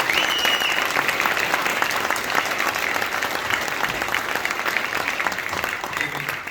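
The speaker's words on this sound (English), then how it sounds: "nice round of applause please for Caoimhin Agyarko." Steady applause from a crowd at a boxing press conference, sustained dense clapping filling the room from start to finish.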